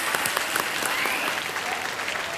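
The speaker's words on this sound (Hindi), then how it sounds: "तालियों के साथ इनका अभिनंदन।" A quiz show studio audience applauds steadily and fairly loudly throughout, a continuous wash of clapping with no talk over it.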